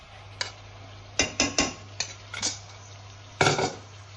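A ladle stirs egg curry in a metal pan, giving a handful of sharp, close scraping clinks at irregular intervals over a quiet low hum, with no talking.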